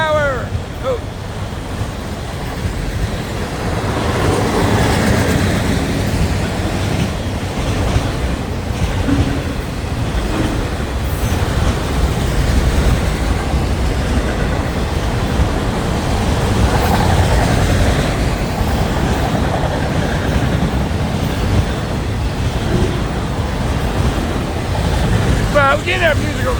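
A freight train hauling auto rack cars rolls past close by, a loud continuous rumble and rattle of wheels and cars that holds steady throughout, with a voice briefly speaking.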